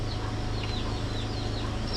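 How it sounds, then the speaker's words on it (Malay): Chickens and small chicks cluck and peep nearby in a village yard, with scattered high chirps over a steady low hum and no talking. "Anak ayam kecil-kecil."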